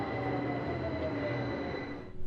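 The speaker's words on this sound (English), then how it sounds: "the train arrives" A train pulls into a station with a steady low rumble and faint whining tones, moderately loud and continuous before easing off at the end, with no talking.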